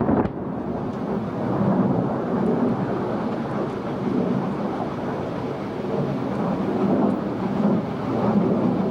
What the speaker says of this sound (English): The aircraft have released their weapons.